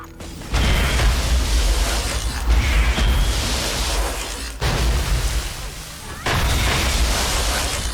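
Torgue Kerblaster explosions in Borderlands 2 boom loudly in heavy, distorted bursts, with several sharp blasts separated by brief gaps over rumbling game sound.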